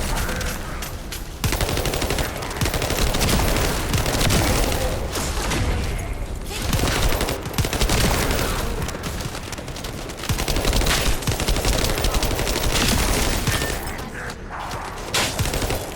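Dense, sustained automatic gunfire in the sci-fi shooter The First Descendant, loud continuous bursts with booming impacts running nearly the whole time, broken by a few short pauses.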